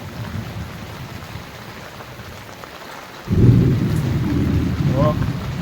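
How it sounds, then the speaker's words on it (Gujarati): Steady monsoon rain hiss in Valsad, Gujarat, with a deep rumble of thunder swelling loudly partway through and rolling on to the end, loud and close. "ગાજ બી જારી વરસાદ ચાલુ હતો"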